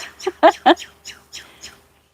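Bird song heard alone: a short run of about seven bright chirps and tweets in a quick, uneven rhythm, fairly close and clear, trailing off at the end.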